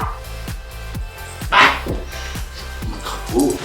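A dog indoors lets out a rapid series of short, close yips and barks in an uneven rhythm, with no speech over them.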